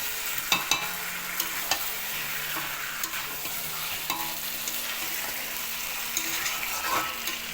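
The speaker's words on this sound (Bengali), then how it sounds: "আমি যখন কষাচ্ছি, এখনও কষাচ্ছি, দেখতেই পাচ্ছ।" Food being stirred and sautéed in a pan on the stove, a steady close sizzle broken by occasional scraping clicks of a utensil, with no talking.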